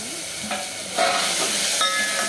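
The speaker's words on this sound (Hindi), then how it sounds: "यहाँ पे मैंने टमाटो ऐड कर दिया है और मिर्ची भी मैं इसे यहाँ पे डालने वाली हूँ, ताकि ये तेल में अच्छे से पक" Tomatoes and chillies frying in hot oil, a steady crackling sizzle that swells briefly as they cook, close and alone with no talk.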